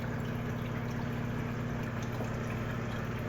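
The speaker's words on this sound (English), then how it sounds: "this little waterfall that I built with just these rocks is creating some nice aeration and water movement" A small waterfall built from rocks in a paludarium runs steadily, giving a soft, continuous trickle and splash with a faint low hum beneath it. No one speaks.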